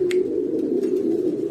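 Pigeons cooing in a breeder's loft, a steady low throaty coo running through the whole stretch with a few soft higher chirps and rustles, close and moderately loud.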